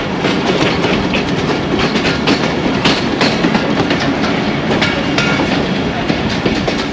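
The restored Dhamaka Express locomotive rolls along a branch line, heard from inside the cab: a loud continuous rumble with steady clickety-clack of wheels over rail joints and rattling cab noise throughout.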